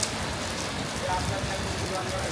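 Steady rain falls in Kuala Lumpur during the rainy season, a dense continuous hiss of drops on surfaces close around, with no voices.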